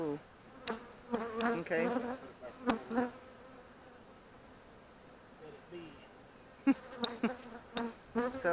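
Honey bees buzzing around an opened beehive during an inspection, a steady moderate hum with intermittent louder passes near the microphone, and occasional talk over it.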